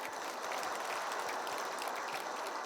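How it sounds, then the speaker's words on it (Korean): A lay audience at a Catholic retreat lecture in Seoul applauds, a steady, even wash of clapping heard from some distance with no speech. "박수"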